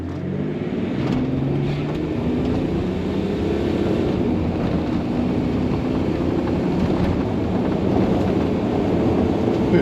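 A Range Rover L322 TD6 diesel accelerating hard uphill, with a steady, heavy engine drone and wind rush filling the cabin at constant loudness and no talking.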